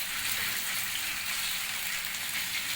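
Mixed vegetable kofta balls shallow-fry in oil in a pan, giving a steady, close, bright crackling sizzle with no talking.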